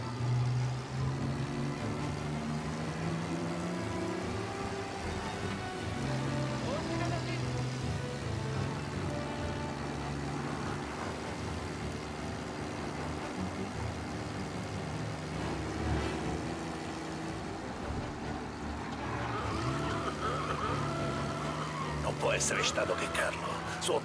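Car driven fast in the video game Mafia Definitive Edition: a continuous engine drone with shifting pitch and road noise runs throughout, underneath Italian dialogue between characters.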